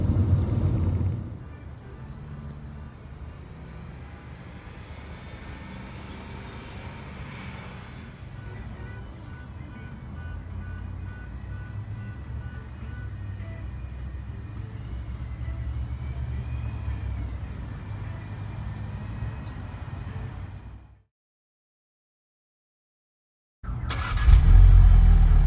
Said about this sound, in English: Driving the Golf R now.